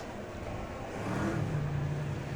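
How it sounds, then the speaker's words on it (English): Superstock race car with a Chevrolet engine at Oceanview Speedway in Wanganui, a distant engine roar that swells and grows louder partway through, with no talk over it. "That car with the Chevrolet engine, that still sounds really good"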